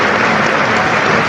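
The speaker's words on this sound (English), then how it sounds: "applause going all around the stadium" Football crowd applauding around the stadium at a Port Vale match, a dense, loud, continuous roar of clapping from many spectators filling the whole brief moment.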